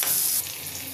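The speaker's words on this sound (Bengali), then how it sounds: "মরিচগুলো ভাজা হয়ে গেছে" Chili peppers fry in a pan with a bright, crackling sizzle that is loudest at first and then settles into a steady hiss, all within a single second and with no talking.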